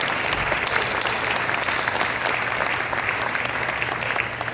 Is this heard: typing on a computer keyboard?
no